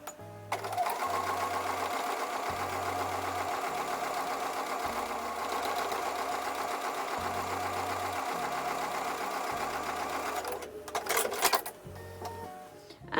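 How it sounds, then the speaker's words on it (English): A sewing machine stitches quilt block pieces with a quarter-inch seam, running in steady rhythmic bursts with brief pauses, close and alone, until it stops near the end. "I'm going to take those over to the sewing machine and sew with a 1/4 inch seam"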